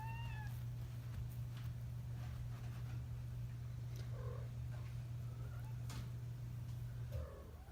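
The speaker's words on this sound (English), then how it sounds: "A bunch of curious kittens." Kittens meow softly at a distance with brief, scattered calls over a steady low hum and faint ticking, no talking.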